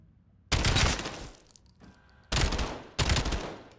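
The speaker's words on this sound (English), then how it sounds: "it's called the Razorfire Vertex, and it's for the Raiden 45K SMG" Razorfire Vertex variant of the Raiden 45K SMG fired in Black Ops 7: three loud, dense full-auto bursts, the first longest, separated by short gaps with faint mechanical clatter and ringing tones.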